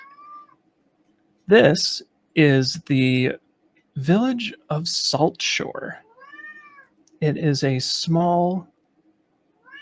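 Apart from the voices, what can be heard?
pet cat screaming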